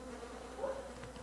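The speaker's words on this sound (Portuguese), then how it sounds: "tô ouvindo barulho aqui de cocô, de mosca" Flies buzz around dung in the video game Don't Starve: Hamlet, a faint, steady insect drone with a brief louder pass midway, heard with no talking.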